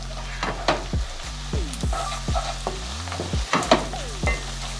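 Seafood boil seasoning, about three tablespoons, is stirred together in a pot, producing repeated close scraping and clinking strokes of a utensil against the pot over a low steady hum, with no talking.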